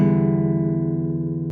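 A badly played guitar gives one loud, sustained, droning note or chord. The tone is steady and buzzy and rings alone for the whole moment.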